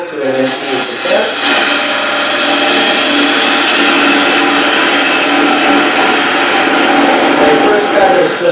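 A wood lathe spins a box blank while a parting tool cuts, giving a steady rough scraping hum with rhythmic chatter throughout at close range.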